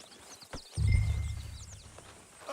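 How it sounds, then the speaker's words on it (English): A horse in the Red Dead Redemption 2 video game, heard as a low rumbling snort or whinny lasting about two seconds over faint game ambience, with no speech. "Okay, but I do kind of like this horse."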